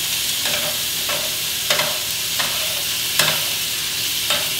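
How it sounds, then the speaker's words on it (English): Butter sizzles loudly in a hot pan alongside a fillet steak, a steady close frying hiss broken by several scraping utensil strokes at irregular intervals, with no talking. "Move that around the pan, let the butter melt."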